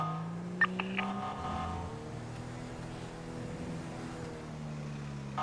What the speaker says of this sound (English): Sounds like an undercover cop car.